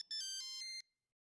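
A phone ringtone plays a short bright electronic burst of tones, then stops abruptly into silence.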